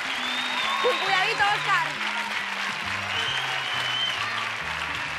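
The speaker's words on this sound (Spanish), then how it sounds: "Un aplauso muy fuerte para la pareja A." Studio audience applauding a contestant pair on a Spanish TV game show, steady broadband clapping under a voice talking and music tones.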